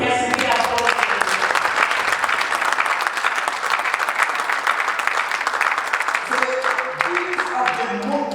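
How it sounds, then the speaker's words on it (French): A church congregation at a Sunday service breaks into sustained applause, a dense, steady clapping that fills the room for several seconds, with music and voices emerging faintly near the end. "Can we applaud Him?"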